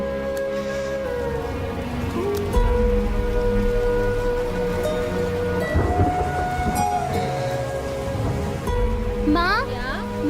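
Heavy rain falls as a continuous, loud hiss, mixed with music tones and some voices.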